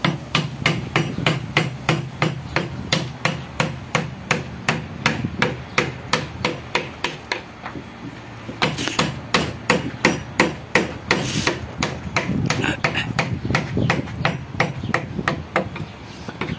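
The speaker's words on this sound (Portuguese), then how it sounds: "Aqui eu posso usar esse formão aqui" A chisel is struck again and again while carving a wooden Coca-Cola sign. Sharp, close knocks fall in a fast, even rhythm throughout, with only brief pauses between runs of blows.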